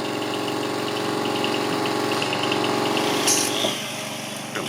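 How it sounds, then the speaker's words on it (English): Boat motors idling steadily at a dock construction site, a loud continuous engine hum that eases slightly near the end, with a short higher mechanical whine partway through. "Lots of running motors and chainsaws."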